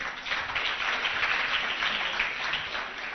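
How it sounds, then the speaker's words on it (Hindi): An audience at an award event claps to welcome Asha Devi, Nirbhaya's mother, in a steady, even wash of applause from a large crowd, with no pauses. "तो जोरदार तालियों के साथ इस मां का स्वागत भी कीजिए"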